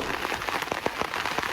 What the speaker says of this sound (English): the rain lashes down on the shelter